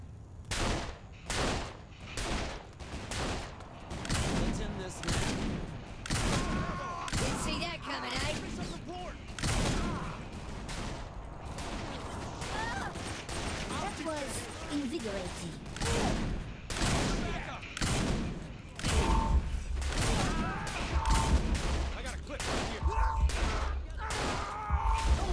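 Shotgun blasts in the Saints Row 4 video game, a steady run of loud, closely spaced shots with chaotic combat noise and intermittent talking over the top.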